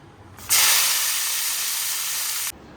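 Yardlong beans dropped into hot oil, a sudden loud close sizzle that holds strong for about two seconds, then cuts off sharply into quiet.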